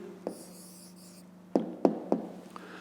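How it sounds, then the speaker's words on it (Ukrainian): A pen writes an answer on paper for a 5th-grade math route problem, a few quick close scratching strokes in a short burst after a faint opening tap, quiet room otherwise. "Пишемо відповідь"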